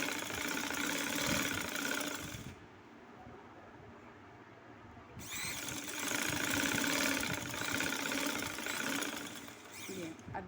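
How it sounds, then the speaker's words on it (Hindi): Domestic sewing machine stitching two skirt frills together, a steady mechanical whir running for several seconds, pausing briefly, then resuming close and loud. "अब ये दूसरी को भी मैं इसके साथ सिलाई कर लूँगी।"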